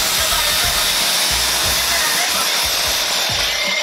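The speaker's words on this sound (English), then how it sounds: "And this is how your dryer starts." A Dyson Airwrap hair dryer blows with a constant broadband whoosh, loud and close, while faint low thumps sound underneath.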